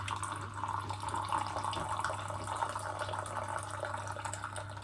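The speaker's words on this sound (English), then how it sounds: "Do you want to see a nice coffee pour?" Freshly brewed coffee streams from a moka pot into a cup in a steady, unbroken pour that stays close and fairly quiet, with no voices over it.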